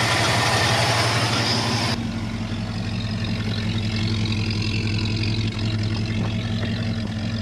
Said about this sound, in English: This engine sounds great. It's gonna make a great engine to put in my F-250.